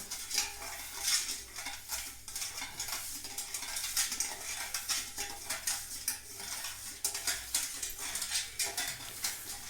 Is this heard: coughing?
no